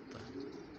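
Pigeons cooing inside a loft, a steady low murmur of soft coos filling the short moment at close range, no voices over it.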